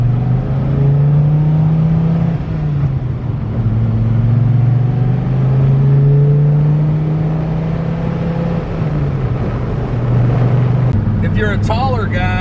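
A 2003 Dodge Viper SRT10 convertible with its top off drives along, its engine a loud, steady low drone that rises and falls gently through gear changes, with a short higher-pitched sound near the end.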